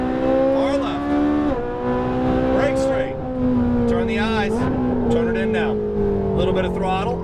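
Ferrari 458 Italia V8 revving on a race track, loud and close throughout, with engine pitch climbing and dropping across gear changes and sharp throttle blips.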